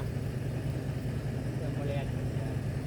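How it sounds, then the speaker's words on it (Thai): Tractor engine idling with a steady, close low chugging throb that carries on unbroken, while people talk over it. "แล้วรถไถใส่มา"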